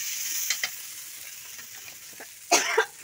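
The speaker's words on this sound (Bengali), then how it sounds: "এখন মশলা দিয়ে আলু দিয়ে ভালো করে কষিয়ে নিচ্ছি" Potatoes, spices and fried soybean chunks sautéing in a hot pan, with a steady low sizzle, scraping stirs and a louder burst of frying near the end; no one speaks.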